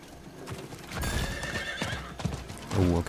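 A horse gallops with quick clip-clopping hooves and lets out a whinny in the dark fantasy action game Diablo IV, the rhythmic hoofbeats moderately close and steady.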